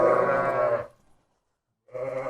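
A ten-month-old ram lamb gives a long, loud, throaty bleat that cuts off into silence, then starts a second call near the end.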